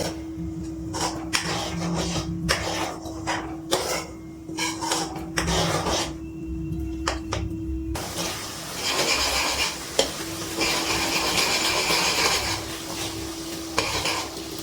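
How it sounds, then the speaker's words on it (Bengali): Milk cream being stirred continuously over a low gas flame while it cooks down into ghee, a steady scraping and soft bubbling that runs throughout, close and moderately loud, with no talking. "গ্যাসের ফ্লেমটা লোতে দিয়ে অনবরত নাড়াচাড়া করছি।"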